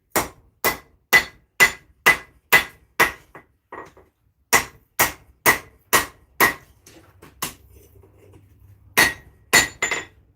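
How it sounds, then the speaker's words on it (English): A hammer forges a small steel blade for a mini Zangetsu sword replica from Bleach, ringing out in sharp, evenly spaced metallic strikes on the anvil, a few lighter taps between, then a brief pause before a final quick burst of blows. "Let's keep forging this out"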